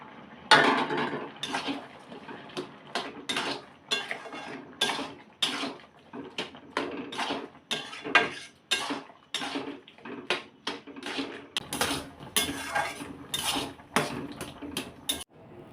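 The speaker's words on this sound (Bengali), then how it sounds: "আমি তাড়াহুড়ো করে এখন রান্নাঘরটা পরিষ্কার করে নিচ্ছি" Pots, dishes and cutlery clatter and clink in a home kitchen being cleaned, a busy run of close, sharp knocks and scrapes in irregular bursts with short gaps, no talking.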